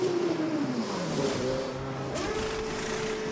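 A McLaren racing car on intermediate tyres in a racing video game at Silverstone sweeps past, its engine note dropping in pitch as it goes by, then settling into a steady drone.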